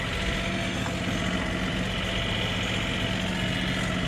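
A John Deere 3520 tractor engine runs in -20 degree cold, a steady, loud, close diesel drone holding an even pitch without pause, with no talking over it.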